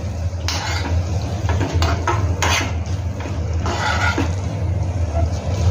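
A spoon scraping and clanking in a metal pan while potato chilli is mixed with tomato sauce, giving irregular knocks and scrapes over a steady kitchen hum, with someone talking throughout.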